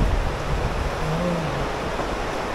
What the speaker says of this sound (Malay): kalau korang boleh dengar bunyi angin yang lalu di dalam kamera ni